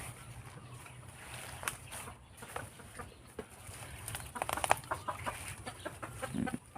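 Chickens, including jungle fowl, cluck on a mixed small farm with durian trees and cattle, a mid-distance scatter of irregular clucks and calls over a steady background hum, with no one talking.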